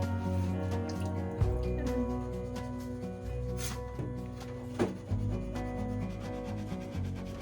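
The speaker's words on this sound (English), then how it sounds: "The rust on this one was worse, so I had to use sandpaper first." Sandpaper rubs rust off the blade of a Japanese knife in close, repeated back-and-forth strokes, a steady gritty scraping with a few sharper scuffs.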